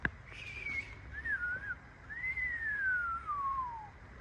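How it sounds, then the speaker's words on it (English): A person whistles a wavering, breathy tune in a few uneven phrases, the last one sliding downward, with faint room noise underneath. "Can't whistle."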